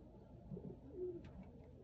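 Soft, low pigeon coos, a few short murmuring calls close by in an otherwise quiet setting.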